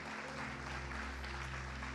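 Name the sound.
congregation applauding in church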